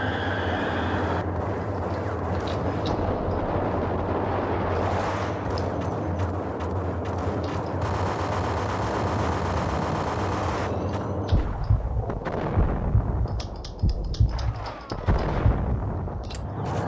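Bursts of rapid enemy gunfire from the Max Payne video game, a mix of loud volleys and sustained automatic fire, with the sharpest, punchiest shots near the end.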